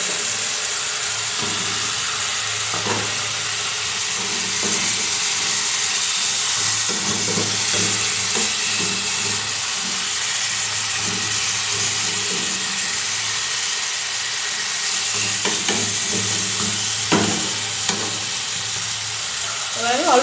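Bata fish sizzling and frying in hot oil with cooked-down spice paste for bata macher jhal, a steady close hiss with occasional stirring clatter and pops.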